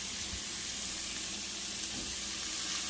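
Shrimp, onions and peppers sizzle together in a pan with a steady, dense hiss, while a faint stirring scrape shows through close by.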